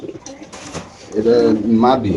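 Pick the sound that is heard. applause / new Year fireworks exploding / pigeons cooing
pigeons cooing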